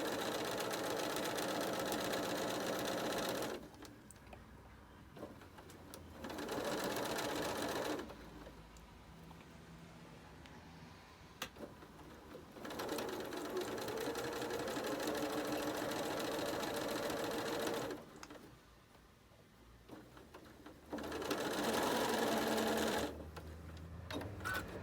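A sewing machine stitches a quilt block with pins in place, running in loud steady bursts of several seconds, separated by quiet pauses, close up with no talking.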